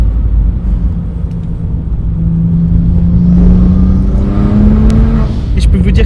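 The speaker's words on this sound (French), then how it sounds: "Le turbo comme il souffle derrière, mais c'est un truc de fou." A BMW M135i running on methanol, built toward 700 hp, accelerates hard with a rising engine drone and turbo whoosh, loud and close.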